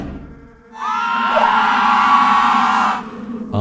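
Party guests scream and yell together in horror, a loud sustained chorus of overlapping high voices that rises abruptly and holds for a couple of seconds before cutting off.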